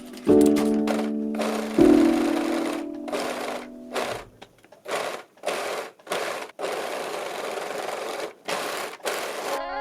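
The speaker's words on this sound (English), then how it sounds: "Once everything is nicely pinned, I sew along the waistband with a 1 cm seam allowance." Sewing machine stitching a waistband onto wide-leg pants with a 1 cm seam allowance, a close, steady mechanical whir running in several bursts of varying length, separated by short pauses.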